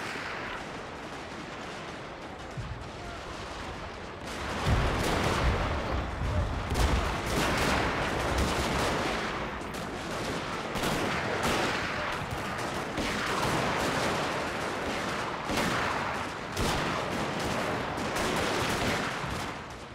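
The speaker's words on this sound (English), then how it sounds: "It's considerably more modern units firing back at them." Musket volleys and artillery fire crackle across a Shogun 2: Fall of the Samurai battlefield, with modern units firing. A dense, ongoing fusillade of overlapping shots and booms rolls steadily at moderate distance with no break.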